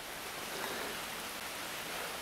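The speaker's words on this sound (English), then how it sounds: "We got caught in a downpour." A steady, dense hiss of heavy rain pours down continuously in rural Putnam County, West Virginia, broad and even, with no voices.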